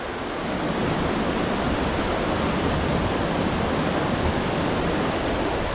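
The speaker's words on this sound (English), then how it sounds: "Wow, this water is falling everywhere." The Tumpak Sewu waterfall roars as water falls everywhere, a loud, dense and continuous rushing that fills the air without pause.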